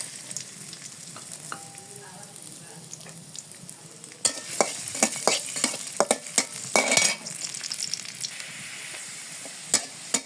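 Chopped onion dropped into hot oil to temper cooked greens in a village kitchen, soft sizzle that jumps louder midway with scraping stirs and clinks of a utensil against the pan.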